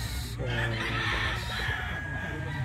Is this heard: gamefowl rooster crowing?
yes